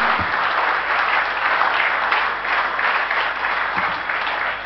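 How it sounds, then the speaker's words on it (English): Audience at an awards ceremony giving a steady, full round of applause, dense and continuous from start to end, with no talk over it. "Can we just come together and have a round of applause to thank them for their valuable time?"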